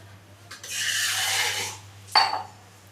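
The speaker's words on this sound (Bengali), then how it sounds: "এই মাছগুলোকে দিয়ে দিচ্ছি" Rohu fish pieces slide into a hot pan for doi rui kalia, a soft sizzling hiss lasting about a second, followed by a short sharp clink of utensil on pan.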